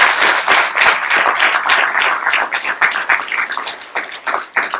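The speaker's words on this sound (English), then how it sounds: "make some noise and a big round of applause for Stel" A live audience at a training and recognition event bursts into loud, sustained applause and cheering, a dense wash of clapping hands that swells and carries on without talk.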